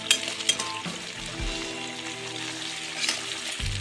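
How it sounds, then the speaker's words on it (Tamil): Slit green chillies, peeled onions and garlic sautéing in hot oil for a Tamil onion kuzhambu, a steady close sizzle with occasional spoon stirs and clinks against the pan. "அடுத்ததாக கீறி வச்ச 2 பச்சை மிளகா, உரித்து வச்சுருக்க வெங்காயம் பூண்டு எல்லாத்தையும் போட்டு நல்லா வதக்கிடுவோம்."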